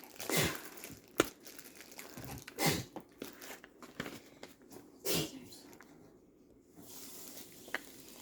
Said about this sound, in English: So let's remove this plastic.